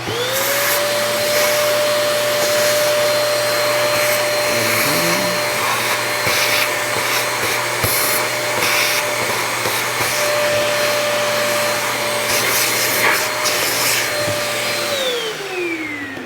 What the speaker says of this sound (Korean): 그러면 청소기 켜서 그라인더를 어떻게 해요?